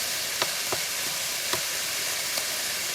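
Beef sears in a hot frying pan with a steady, even sizzle and a few faint taps of utensils during a keto beef and broccoli cook. No voices.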